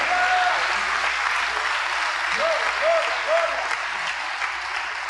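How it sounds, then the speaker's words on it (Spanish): Audience applause for God at an evangelical church service, a steady broad wash of clapping from a crowd that continues throughout. "denle un aplauso al Señor Dios Todopoderoso en esta noche"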